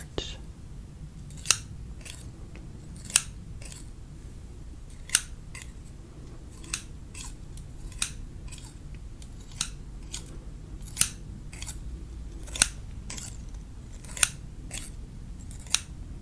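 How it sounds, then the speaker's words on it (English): Scissors snip through credit cards in a quiet room, with about a dozen crisp, evenly spaced cuts roughly every second or so, close and clear over faint background hush. "Especially when he wants to cut the credit cards."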